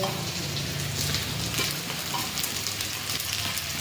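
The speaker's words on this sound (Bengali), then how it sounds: "এখানে পেঁয়াজ ভাজা হচ্ছে" Onions sizzle and crackle steadily in a hot pan, with occasional stirring scrapes, close and continuous, no one talking.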